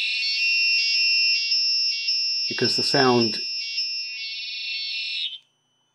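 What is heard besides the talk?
buzzer module on Elegoo UNO R3 sounding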